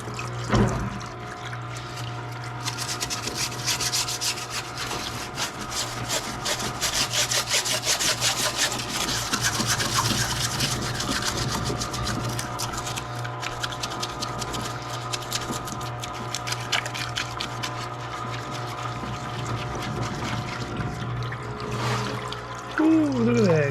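Rust residue is scrubbed off Iroc-Z cylinder heads that are being prepped for BTR 660 springs. The close, steady scraping and rubbing strokes continue throughout at moderate loudness, with a low hum underneath.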